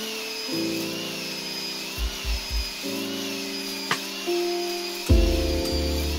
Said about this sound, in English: Then you want to be spinning the drill as you put it in, and you want to keep it spinning even as you pull it out.